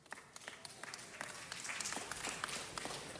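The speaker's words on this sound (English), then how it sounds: "They all deserve a huge round of applause." A crowd applauds at a city council meeting, many hands clapping in a dense, steady patter that builds slightly in strength over a few seconds, fairly faint and without talk.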